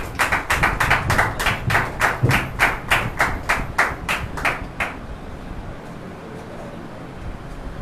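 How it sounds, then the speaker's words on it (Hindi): Church congregation at a Thursday healing service clapping in a steady, rhythmic beat for about five seconds, sharp and loud hand claps that then stop, leaving quiet room tone. "तो आइए जोरदार तालियां परमेश्वर के दास के लिए"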